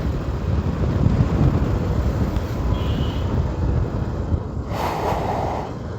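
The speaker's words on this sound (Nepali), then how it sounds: "पचासी स्पिडमै यस्तो हावा" Wind rushes loudly over a rider on an old motorcycle traveling at about 85, a steady roaring blast with no talk.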